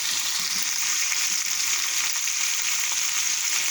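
Garlic and pork stir-frying in a pan for Thai fried rice with egg and Chinese sausage, a loud, steady, close-up sizzle that runs without pause and with no voices.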